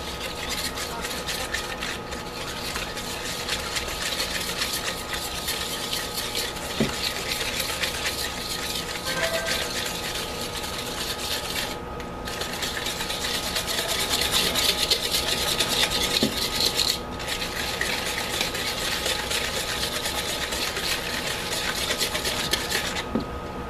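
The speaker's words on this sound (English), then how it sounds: "we're just going to whisk it to combine." A cream cheese mixture for banana bread is whisked in a bowl, giving a continuous close scraping and rubbing texture with small clicks that runs unbroken throughout.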